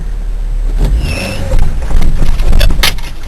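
A Toyota Tercel engine revs hard while the car drifts in the rain, a loud, steady mechanical roar that swells and surges repeatedly with no talking over it.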